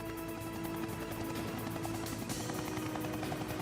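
Steady, dense rotor and engine roar of a helicopter in an animated action scene, loud and continuous throughout with no voices.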